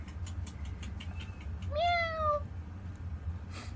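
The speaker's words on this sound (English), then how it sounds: "We have cats. We have kitties." One clear, drawn-out cat meow rises midway through a quiet room with a faint low hum, then fades.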